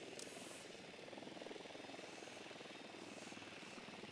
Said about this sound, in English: I hear a chopper out there.